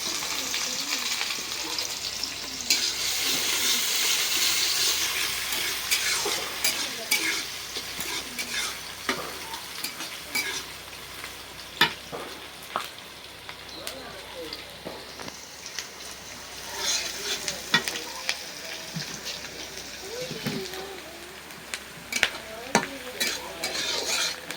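Onions and green chilies frying in hot oil in a pan while being stirred, a steady close sizzle with repeated scraping strokes of a spatula throughout, no talk.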